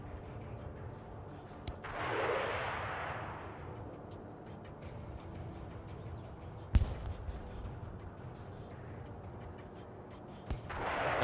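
Distant game explosions and gunfire from the military strategy game Broken Arrow, with a few sharp booms and short cracks spread across a quiet, low ambient backdrop, one hissing blast swelling and fading early on.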